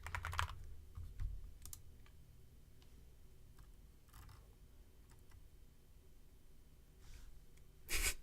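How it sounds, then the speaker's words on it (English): Irregular clicking of fingers typing on a computer keyboard, fairly close and soft, with brief louder bursts of keystrokes near the start and again at the end, and no voices. "Bear with me while I'm typing here, because there's so much stuff going on right now."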